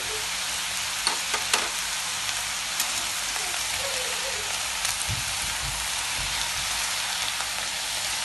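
Salted vegetables are stirred in a frying pan, a steady hiss of sizzling with a few soft scraping knocks of the spatula, close and unbroken, no talk.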